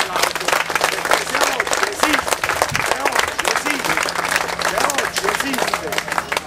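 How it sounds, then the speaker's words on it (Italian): An audience applauds in memory of a late friend at an event at Castello di Baia, a dense sustained patter of many hands clapping close by, with voices talking over it. "noi lo dobbiamo ricordare con un vostro applauso"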